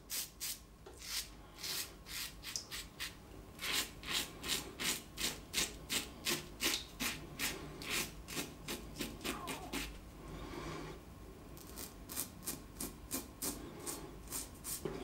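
A vintage Perma Sharp blade in a Tradere razor is drawn against the growth in close, quick rasping strokes, repeated in steady bursts with a short pause partway through.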